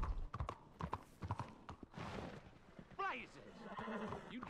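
Horse hooves clip-clop in quick, uneven bursts in Red Dead Redemption 2 as the horse skids and drifts, with a short whinny near the end and voices talking over it.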